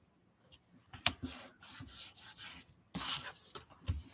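Card paper scraps being trimmed even, a close, quiet series of dry rubbing and scraping strokes in short irregular bursts with brief pauses between them.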